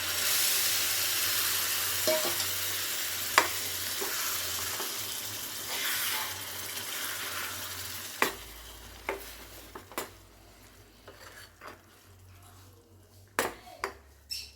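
Tomato juice hitting a hot pan of dry fish curry, a loud hissing sizzle at first that gradually settles into a quieter bubble, broken by sharp clinks of a spoon against the pan.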